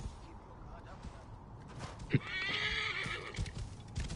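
A horse whinnies loudly in a short burst in the video game Assassin's Creed Origins, with soft hoof clops and quiet game sounds around it.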